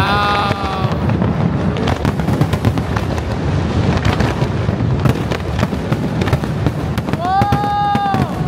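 Fireworks bursting at a Singapore National Day rehearsal, a continuous loud crackle and boom throughout with crowd voices and a short whistle-like cry near the start and end.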